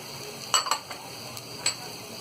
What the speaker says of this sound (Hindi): प्याज और अदरक लहसुन को लगातार चलाते हुए हमने इसे अच्छी तरह भून लिया है